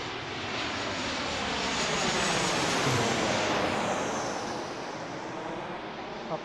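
A Southwest airliner arriving at Pittsburgh International Airport roars past in the evening with a loud, steady engine rush that swells toward the middle and eases slightly as it passes. No one talks.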